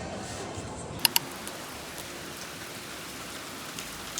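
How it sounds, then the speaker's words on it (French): Steady rain pouring outdoors, a dense even hiss with a couple of sharp drips or clinks early on. "Regarde-moi la pluie"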